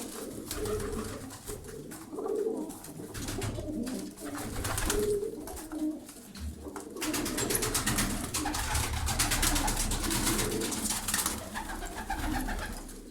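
Pigeons or doves coo continuously at close range, their low repeated calls overlapping in steady waves throughout.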